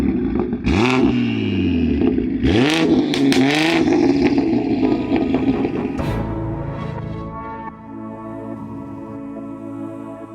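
A cheap, formerly abandoned BMW fitted with a giant turbocharger revs hard in repeated sharp climbs and drops with turbo whoosh, loud and close, then settles to a rough idle.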